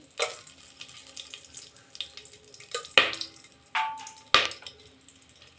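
Cinnamon, cloves and cardamom sizzle in hot oil for a chicken biryani, a steady hiss broken by a few sharp, loud crackles and pops near the end.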